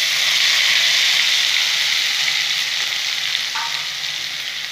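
Spice tempering for chitol fish kalia fries in hot oil with a loud, steady, close sizzle that holds throughout, with a brief stirring scrape near the end.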